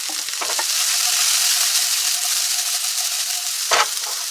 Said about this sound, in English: our pan is on high with a tablespoon of olive oil